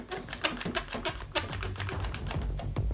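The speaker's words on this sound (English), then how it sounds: "I think I might just chuck a clamp on here" A quick-grip bar clamp is ratcheted onto a pine wood strip, giving a run of close, quick clicking taps of steady strength with no voice over them.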